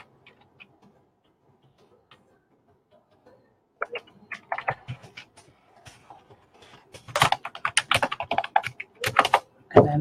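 Computer keyboard typing in bursts of quick clicks, sparse and faint at first and then dense and louder, with no voice over it.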